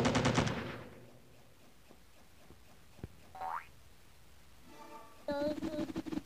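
Gunfire from the Android first-person shooter Milk Choco: a rapid burst of shots up front, then scattered single shots, a rising boing-like effect and another quick volley, with game sound effects and no talk.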